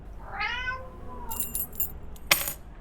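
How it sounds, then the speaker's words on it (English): A cat gives a clear, rising meow up close, followed by a brief light metallic jangle of car keys being batted, with a sharper clink near the end. "Did he just bat the car keys into the gutter?"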